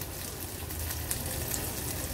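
Mustard seeds, cumin, asafoetida and curry leaves crackle and sizzle steadily in hot oil for a Maharashtrian tempering, a close, continuous frying hiss with faint stirring.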